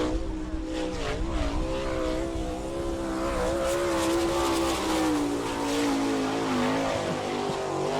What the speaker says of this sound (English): Qualifying right now in the Rick Doherty-owned Peterbilt sponsored car number 7 out of Lipstick